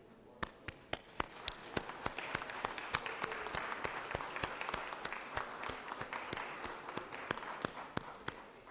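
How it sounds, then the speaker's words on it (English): Applause fills the Georgia Senate chamber: a steady wash of many hands clapping, with sharp, regular loud claps standing out above the crowd throughout. "give them a grand round of applause and recognition"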